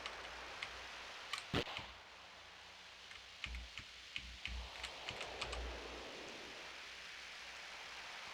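Computer keyboard typing during play of a game, faint scattered key clicks and taps in short irregular bursts over a quiet room hiss, with no talking.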